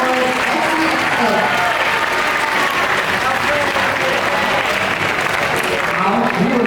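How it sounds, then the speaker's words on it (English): An audience at a student leaders' investiture ceremony applauds steadily and loudly for the full stretch, a dense wash of clapping with crowd murmur and scattered voices mixed in. "A huge round of applause for our outgoing Exco."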